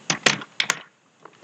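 Several computer keyboard keys are pressed for a copy-and-paste shortcut, giving a quick cluster of four close, crisp clicks followed by a faint extra tap after a pause.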